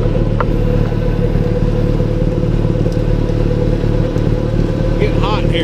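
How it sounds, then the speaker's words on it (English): A snowblower with chain-driven augers runs steadily and loud close by, a constant low engine drone with harmonic hum that carries on without pause, while a person talks briefly over it. "I like listening to the snowblower anyway."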